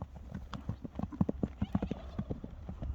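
Horse hooves clip-clop in a quick uneven patter at a horse event, close and fairly quiet, with a person talking over the hoofbeats.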